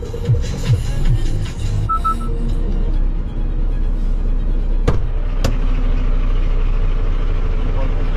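A Renault T truck idles steadily at a roadside inspection station, a low engine drone running throughout while people talk over it, with a couple of sharp clicks or knocks partway through.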